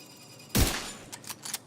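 A single sharp, loud sniper rifle shot in The Division 2, fired as a body shot, with a booming low crack that decays over a second, followed by a few faint clicky game sounds.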